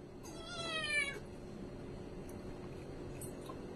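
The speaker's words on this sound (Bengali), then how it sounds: "ওই যে ডবি আসছে, ম্যাও ম্যাও ম্যাও" A cat lets out one drawn-out, rising meow early on, faint and set against a quiet room hum, followed by near silence with a few tiny clicks.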